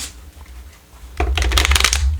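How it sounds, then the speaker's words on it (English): Tarot cards are riffled in a quick, crisp flutter of snapping card edges close up, following a quiet pause. "One more shuffle."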